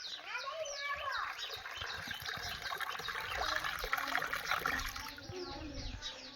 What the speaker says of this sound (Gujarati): પાણી આવે છે, પાણી બંધ કરતો.